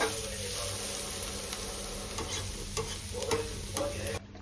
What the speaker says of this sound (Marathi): हे काळी मिरी आणि मीठ टाकून थोडस असं फ्राय परतायचं.